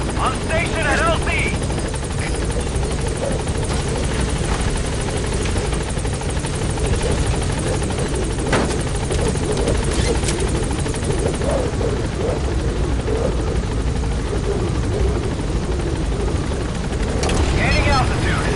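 The Pequod helicopter in Metal Gear Solid V hovers at a landing zone with a constant loud rotor drone and buzz, while radio voices talk over it.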